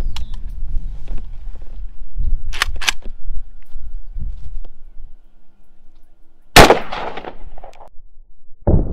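A single loud AK rifle shot fired into ballistics gel at 8 yards rings out sharply in the open air, its report dying away with a short echo. Quieter handling noises come before it, and there is no speech.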